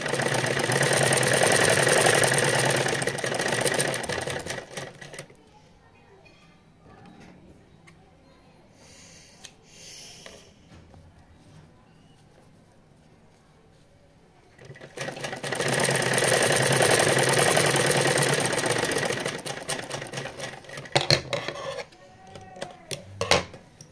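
Sewing machine stitching the rough edge of fabric for a collared neckline, loud rapid whirring runs of about five seconds at the start and again later, with a quiet gap of faint handling noises between them.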